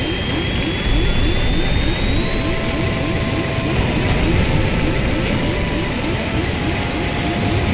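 A steady, loud jet engine roar from a crashing airplane in an island survival game fills the whole clip, with a rising whine sweeping upward and a rapid rhythmic rattle beneath, close and unbroken, with no voices.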